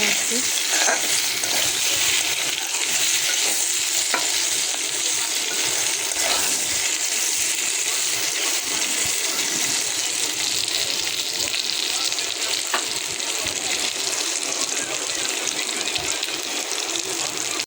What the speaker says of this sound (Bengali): আলু ভাজতেছি